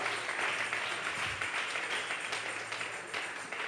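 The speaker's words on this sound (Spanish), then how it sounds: "Vamos a regalarle ofrenda de palmas al Dios de la gloria." A church congregation applauds together in a continuous patter of clapping that fades slightly toward the end, heard at a moderate distance.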